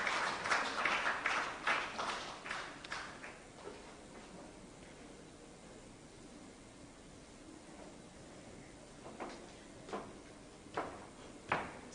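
Audience applause at a fertility awareness campaign event in Kenya: a fading round of scattered clapping that trails off into quiet, then a few isolated claps later.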